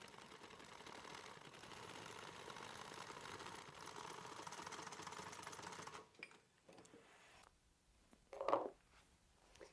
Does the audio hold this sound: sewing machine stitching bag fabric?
yes